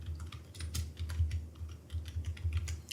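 Fingers typing on a computer keyboard into an Excel spreadsheet, a quick, uneven patter of close, crisp key clicks with no voices.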